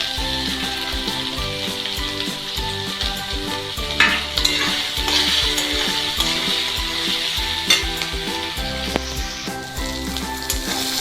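Onion and tomato fry in a pan, a loud continuous sizzle broken by stirring scrapes, with background music playing throughout.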